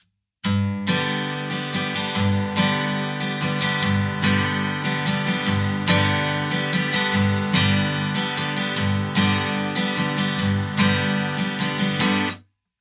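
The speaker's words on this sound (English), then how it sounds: "So here's how the strum pattern sounds if I play it straight." Steady strummed acoustic guitar chords in an even, straight eighth-note rhythm, close and full, with crisp repeated strokes and no voices.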